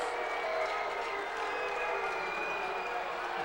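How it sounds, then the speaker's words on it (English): A packed high school basketball gym crowd roars and claps in a dense, continuous din that stays loud throughout, with scattered shouts and whistles rising through the steady noise. "the crowd's so noisy I can't even hear the PA for the foul"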